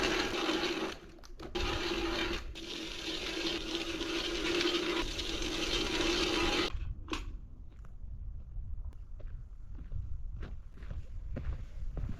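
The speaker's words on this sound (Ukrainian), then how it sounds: "У мене є льодобур. Я зараз забабахую собі декілька лунок для проби." A hand ice auger grinds steadily through lake ice while drilling fishing holes for perch, a continuous close scraping churn that stops abruptly after about seven seconds, followed by quieter crunches and ice-chip clatter.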